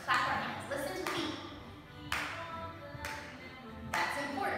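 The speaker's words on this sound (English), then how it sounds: "We're going to clap our hands. Listen to beat." Children in a ballet-themed music and movement circle time clap their hands in a steady beat, sharp claps roughly once per second close by, with soft background shuffling.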